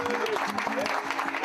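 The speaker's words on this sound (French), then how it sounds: "Un tonnerre d'applaudissements pour mon nouvel ami," A French audience applauds a guest with sustained, dense clapping, a crowd of hands heard close and loud throughout, with faint voices or tones woven underneath.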